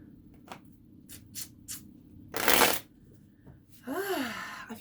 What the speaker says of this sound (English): I'm going to shuffle all 3 of these decks here